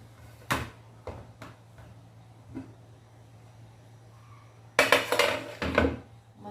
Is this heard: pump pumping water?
no